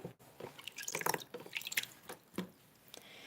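Water from a tap drips and splashes while wax is washed off a Ukrainian etched pysanka egg, irregular close taps and trickles in quick bursts.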